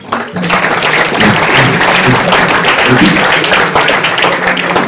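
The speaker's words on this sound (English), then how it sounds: "So, a huge round of applause for our guest of honor." An audience at a university ACM SIGCHI inauguration ceremony applauds the guest of honor after his keynote, with loud, dense, sustained clapping from a crowd and a few faint voices mixed in.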